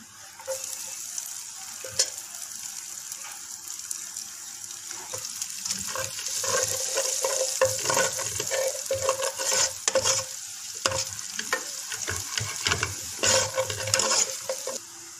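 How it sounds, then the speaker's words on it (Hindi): Chopped garlic frying in a spoonful of ghee in a pan: a steady close sizzle with crackling spikes and stirring scrapes, growing busier as it cooks, with no talk. "एक चम्मच जो है घी का ले लिया। लहसुन चॉप किया हुआ ये हम डाल देंगे इसमें"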